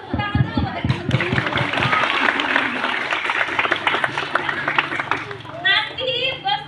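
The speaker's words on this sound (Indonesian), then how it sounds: "Tepuk tangan dulu buat yang teman-teman." Schoolchildren at an elementary school clap together in a brief burst of quick, lively applause with excited chatter, followed by an adult voice speaking.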